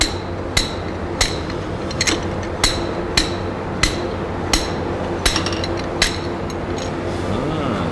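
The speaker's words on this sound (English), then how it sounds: "This is my wrist pin puller." Wrist pin puller working a piston wrist pin free on a disassembled Subaru STi engine with a ring land failure, giving sharp metallic clicks at a steady pace of roughly one every half second, close and clear.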